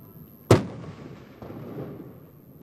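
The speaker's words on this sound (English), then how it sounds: "ranging from ceremonial parade to the 21-gun salute and cannon firing" Ceremonial cannon fire at a military funeral with a 21-gun salute: one sharp, loud blast followed by a lingering rumble and a fainter distant echo-like boom.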